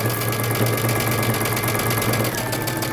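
A sewing machine runs continuously while stitching a seam on a bomber jacket, a steady close, loud mechanical hum with a fast rhythmic needle chatter.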